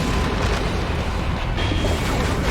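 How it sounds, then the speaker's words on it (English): Loud video-game explosions rumble continuously as a dense, booming roar that fills the whole stretch without pause, with no voices over it. "during some of those explosions,"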